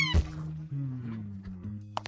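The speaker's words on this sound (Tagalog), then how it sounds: "Oh, anong ganda ng kuting." A kitten gives a long, drawn-out meow, close and clear, followed by a few sharp clicks or taps near the end.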